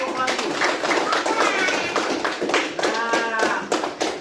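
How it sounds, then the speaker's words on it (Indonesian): Classroom applause for a student group, a steady patter of many small hands clapping close by, with children's voices mixed underneath throughout. "kita berikan tepuk tangan untuk kelompok melati"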